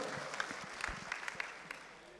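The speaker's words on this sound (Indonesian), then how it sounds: "ini dia tepuk nih. tangan dong untuk Pak Boy." A business dialogue audience applauds with scattered, moderately close handclaps while someone talks over the clapping.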